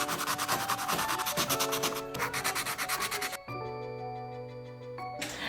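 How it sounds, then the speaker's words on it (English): Rhythmic sanding strokes rub back and forth over wooden blocks, sanding off lettering, steady and close, with a faint ringing tone underneath and a brief pause partway through. "Now we're going to take them apart and start sanding off the letters."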